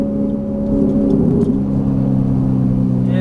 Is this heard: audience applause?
no